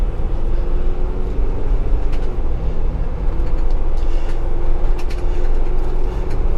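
A 2019 Jeep Wrangler cruising on the road, with a steady low engine drone and continuous road and wind rumble throughout, no talking.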